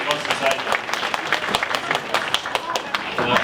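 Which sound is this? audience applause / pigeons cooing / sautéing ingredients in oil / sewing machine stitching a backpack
audience applause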